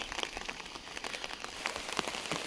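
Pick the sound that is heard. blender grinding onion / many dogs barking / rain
rain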